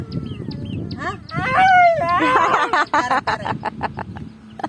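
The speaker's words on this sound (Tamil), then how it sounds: "கோழிகளா வேணா?" Chickens cluck and squawk close by in a busy flurry, with a voice speaking over part of it.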